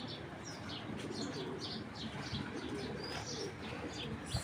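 Racing pigeons at a large loft keep up a busy chorus of repeated low coos and chirps, with occasional wing flutters, against a constant background hum.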